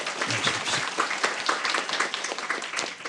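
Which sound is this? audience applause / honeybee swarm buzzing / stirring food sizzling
audience applause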